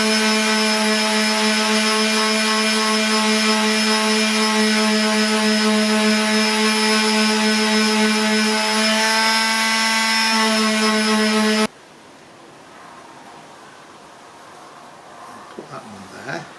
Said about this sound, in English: I'm going to sand this little lump out